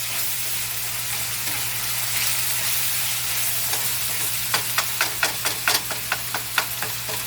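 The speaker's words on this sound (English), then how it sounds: "So we've been cooking this for about, what, 2-3 minutes?" Szechuan beef and cabbage fry in a pan over medium-high heat with a constant loud sizzle and hiss, followed by a run of rhythmic utensil scrapes and taps as the mixture is stirred.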